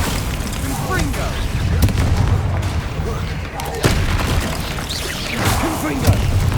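Repeated explosive spell blasts in Hogwarts Legacy combat, booming bursts over a dense, continuous battle din, with a voice shouting spell names throughout.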